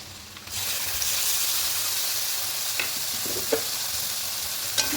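Ground spice paste drops into a hot pan for a prawn and taro-stem dish, bursting into a loud, steady sizzle that continues to the end, with a few scraping stirs of the spoon.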